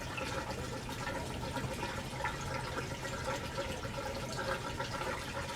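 Gasoline poured into an old gas can owned since the 1980s, a steady gurgling, splashing stream of liquid filling the can, continuous and close.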